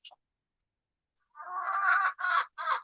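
Chickens cluck close by in three short bursts after a brief chirp and a pause, the calls loud and nasal.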